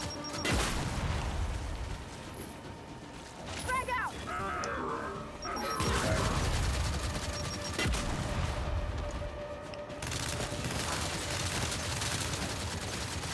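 Gunfire from the video game Gears of War 5 rattles in repeated bursts and single cracks, with crashes and impacts woven through a busy, loud mix.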